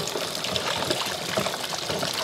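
Santol fruit being rinsed and washed in water by hand, a steady close splashing and trickling that runs without a break and with no talk.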